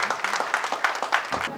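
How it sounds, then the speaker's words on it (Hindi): Applause from a gathered crowd honoring Dr. Sachchidanand Fulekar on his 62nd birthday in Tumsar, dense overlapping claps filling the short moment without any spoken words. "मैं चाहूंगा कि ढेर सारी तालियों के साथ उन्हें बधाइयां दी जाए।"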